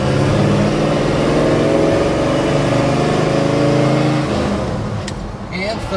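A 1966 Chevrolet Chevelle SS with a four-speed manual transmission revs hard and steadily under load. Near the end the engine note drops away as the car shifts up and settles into a cruise.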